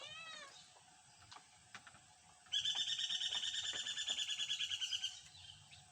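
A bird believed to call before rain gives a loud, sustained trilling call of rapid repeated notes, preceded by a few short chirps and faint background noise.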